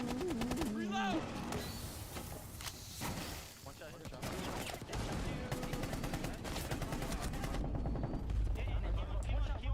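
Rainbow 6 Siege gameplay with bursts of automatic gunfire and scattered shots amid clattering game effects, loud and busy, with voices talking over parts of it.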